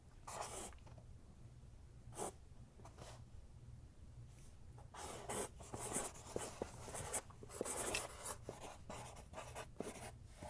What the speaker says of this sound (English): I'm going to write down something you're going to have to guess what I wrote down